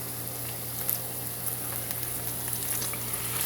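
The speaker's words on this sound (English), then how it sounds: "So the oil's starting to cook, so we're going to put a little bit of the garlic in right now." Garlic frying in hot oil for a roast beef sandwich, a steady, moderately soft crackling sizzle running evenly with a few faint pops.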